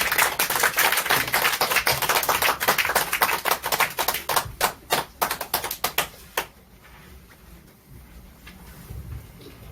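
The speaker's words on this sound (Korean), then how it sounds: "박수로 환영해 주시기 바랍니다" A small gathering at a press event in Jongno welcomes a speaker with clapping, a crisp rapid patter that thins into separate slower claps, then fades out to near quiet.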